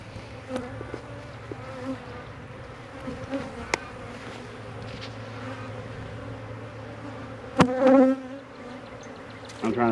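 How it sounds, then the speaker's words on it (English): A swarm of honeybees buzzes around a hive frame of oak comb packed with brood. The drone is steady and close throughout, with a louder swell of buzzing near the end. "It's full of bees, cat brood, all different stages of brood"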